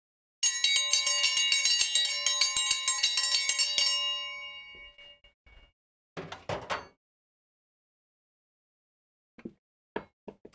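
A dinner bell rings in a rapid metallic clanging run for about four seconds, then fades, followed by a few scattered knocks and thuds in an otherwise quiet room.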